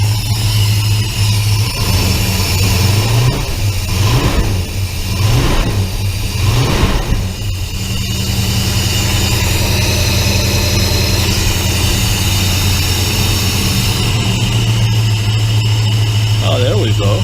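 A 1966 Plymouth Belvedere V8 with FiTech fuel injection and an Edelbrock universal sump runs loud and steady, revving in a few surges early on and then settling into a smooth, sustained idle.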